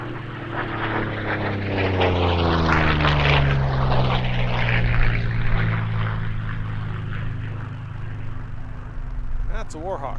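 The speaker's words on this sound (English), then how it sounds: "that's a Warhawk." A P-40 Warhawk propeller fighter races past at the Reno Air Races, its engine drone rising and sweeping through a pitch change as it passes fairly close, with people talking under it.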